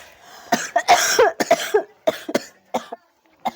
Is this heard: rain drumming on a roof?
no